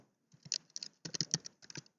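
A command being typed on a computer keyboard produces quick, close clicking keystrokes in short uneven bursts with small pauses, quiet and without any talking.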